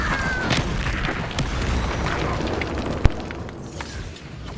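A Confringo explosion spell in the video game Hogwarts Legacy, heard as a dense roaring blast with crackling debris and one sharp pop near the middle, loud and close, fading toward the end.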